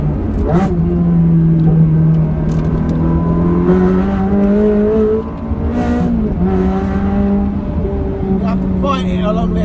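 A Ferrari 360 Challenge Stradale engine pulls hard along a twisty road, a loud, steady, harmonic drone whose pitch climbs and dips as the revs rise and fall, with a brief dip in level around the middle.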